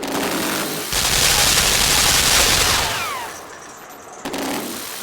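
Rapid gunfire from the video game Limbo sounds as a dense, harsh burst of loud continuous shots, then fades before a short renewed burst at the end.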